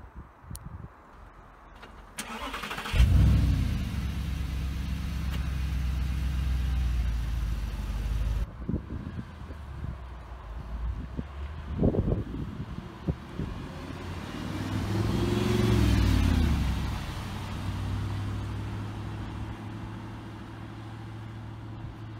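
An Audi R8 fires up with a sharp, loud engine bark, idles with a deep rumble, then revs and pulls away, the sound swelling again and fading as it drives off.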